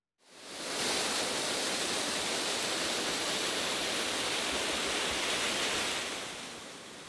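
Water rushing at the partly frozen three-tier Dzhuryn waterfall in Ternopil region, Ukraine, its ice-crusted cascades still letting water break through: a steady, loud, broadband roar holding constant throughout, with no voices.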